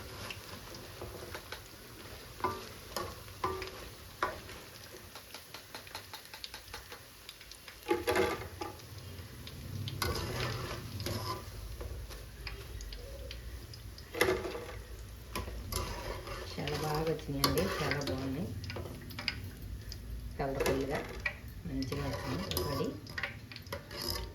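Wild betel leaf (vamaku) pakodi bubbling and crackling in hot oil, a steady low sizzle broken by scattered ticks and clinks of a utensil against the pan, with occasional louder bursts as pieces are moved.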